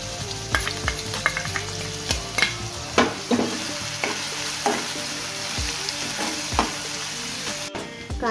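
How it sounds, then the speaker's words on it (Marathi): Onion frying with roasted garlic in a pan for a Goan sardine ambot tik, giving a steady close sizzle broken by repeated stirring scrapes and clatters, with no voices. "लसूण भाजलेली आहे, ह्याच्यामध्ये मी कांदा घालून घेतो।"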